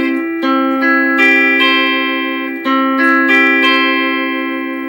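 Electric guitar playing the riff of a song, a steady run of clear sustained notes and chord changes with effects and a touch of reverb, loud and alone with no talking.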